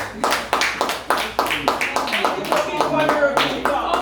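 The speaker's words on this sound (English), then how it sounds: "more clap for this guy" A small group claps for a contestant in a finalists' house, about a dozen distinct close claps in an uneven rhythm, with a voice speaking over the final stretch.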